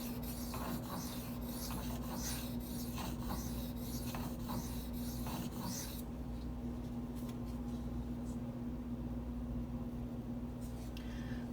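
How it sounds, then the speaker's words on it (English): Rasping strokes of a Spyderco Native 5 knife blade across a coarse Gritomatic silicon carbide sharpening stone, a steady scraping texture under a constant low hum, louder in the first half and growing smoother and quieter afterward. "I don't know if you heard how loud that stone was when I first made those few passes"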